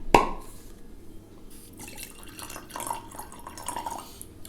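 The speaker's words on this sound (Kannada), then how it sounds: "ಇದನ್ನು ಡೈಲ್ಯೂಟ್ ಆಗೋಷ್ಟು ನೀರು ಹಾಕ್ಕೊಳ್ಳೋಣ" Water poured into a glass of Teacher's 50 whisky: a sharp clink at the start, then a soft, fairly quiet trickle and splash that continues for a few seconds.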